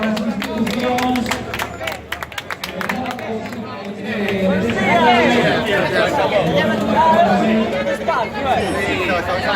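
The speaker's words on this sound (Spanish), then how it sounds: "también para él un aplauso para la delegación, para las instituciones" Crowd at the start of a Lugo regional cycling race claps and chatters, a broad wash of applause and babble that swells in the second half, with voices mixed throughout.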